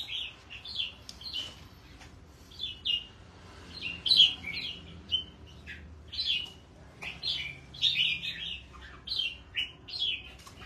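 Caged songbirds set out in the hot sun outdoors chirp and tweet in repeated bright bursts, several calls overlapping at close range, with a soft background hum beneath them.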